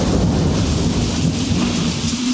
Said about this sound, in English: It's raining. It's wet.